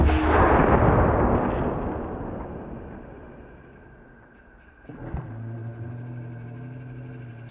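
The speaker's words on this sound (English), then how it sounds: "it is a can cannon, so we're doing mostly pop cans" A can cannon launches a pop can at a target with a loud booming blast whose rumble slowly fades over several seconds. A sharper thump follows near the end, trailed by a steady low hum.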